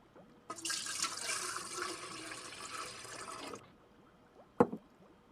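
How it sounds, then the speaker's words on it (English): Water is poured into a can as a steady, hissing splash lasting about three seconds, then a single brief clunk follows in near silence. "I'm going to pour the water into the can."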